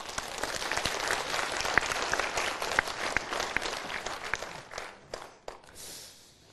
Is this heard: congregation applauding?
yes